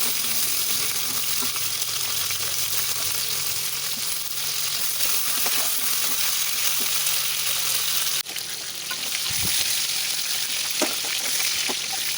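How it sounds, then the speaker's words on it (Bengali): Crabs rubbed with turmeric and salt fry in hot oil in a wok, producing a dense, even sizzle that runs throughout with occasional small pops and a brief clatter near the end. "কড়াইতে তেল গরম করে কাঁকড়াগুলিকে ভালো করে ভেজে নিলাম"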